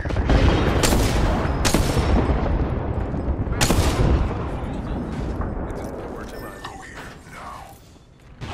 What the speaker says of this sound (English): Watch it, airstrike.